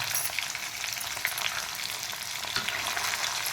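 Spices frying steadily in a pan with ginger garlic paste, cumin, coriander powder, chili powder and salt, giving a continuous bright sizzle and crackle throughout with no talking.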